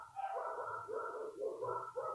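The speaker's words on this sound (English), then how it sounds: "A vicious dog fight going on." Dogs fighting viciously, a quick run of yelping, whining barks and snarls in bursts at moderate distance, fairly faint with a murmur of background noise beneath.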